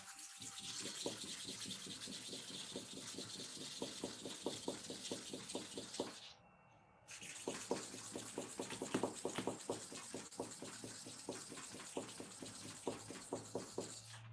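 A taper hair-clipper blade being sharpened by hand, rubbed in a quick, even series of short scraping strokes with one brief pause midway, quiet and close with no talking.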